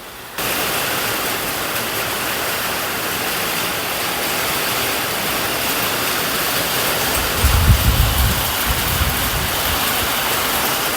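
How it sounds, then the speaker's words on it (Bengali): A sudden rain shower on a hot, sunny day starts abruptly and becomes a dense, steady patter and hiss, close and fairly loud, with a brief low rumble midway. "এই গরমের মধ্যে হঠাৎ করে এই বৃষ্টিটা আসায় মানে সত্যি দারুণ"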